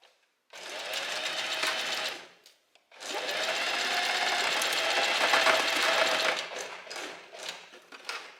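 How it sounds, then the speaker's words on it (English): A sewing machine stitches along a thin strap on a little black dress, running in two steady bursts of rapid stitching separated by a short pause, close and alone, ending in a few brief stop-start runs. "we're gonna start sewing here"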